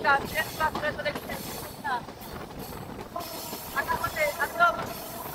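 A train passes through Ishwardi Junction station in Bangladesh, a steady rumble and hiss of rolling railcars with intermittent squealing wheel tones rising and falling over about five seconds.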